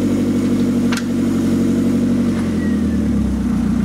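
A car engine idles and pulls steadily as the car reverses slowly after a clutch repair, a close, even low hum with a faint brief squeak partway through.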